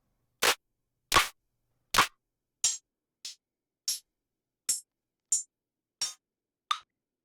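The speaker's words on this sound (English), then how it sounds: "some drums that I made right before I started this video, which sound like this" Self-made electronic drum sounds played in Bitwig: ten short, dry hits at a steady pace, the first ones punchy and full, the later ones thinner clicks and snaps, each cut off sharply into silence.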